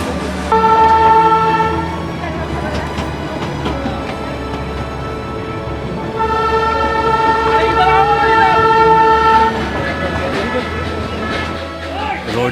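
A Darjeeling toy train runs close beside a busy hillside market street, giving long, loud sustained horn or whistle tones in two blasts, with steady street bustle and traffic noise underneath.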